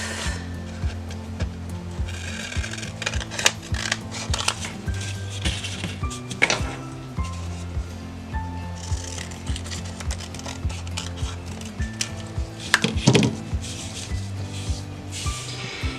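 Scissors cut a paper sewing pattern piece along the seam line with crisp snipping and rustling, repeated in uneven bursts close by.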